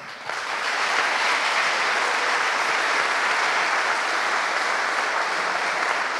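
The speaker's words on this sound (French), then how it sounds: "Je voudrais qu'on l'applaudisse." A large audience at a conference on Middle Eastern Christians gives sustained, even applause, a dense wash of clapping that rises quickly and holds steady for several seconds without speech.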